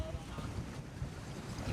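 Sailboat cruising up the coast in wind, a steady faint rush of wind and water noise buffeting the microphone.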